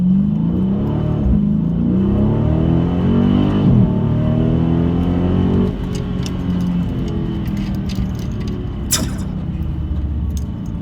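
A Dodge Challenger Scat Pack accelerates hard from a launch in sport mode and first gear, its loud engine rising repeatedly in pitch through upshifts, heard from inside the car on a street run.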